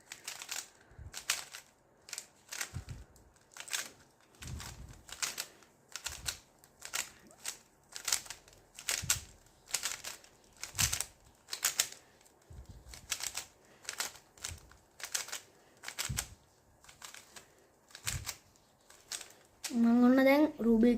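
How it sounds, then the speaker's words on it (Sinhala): A Rubik's cube is twisted rapidly while being scrambled, giving steady bursts of close plastic clicks and clacks at a brisk, fairly even rhythm. A voice briefly begins speaking at the very end. "මම ඔන්න දැන් රූබික් කියුබ් එක ෂෆල් කරගත්තා."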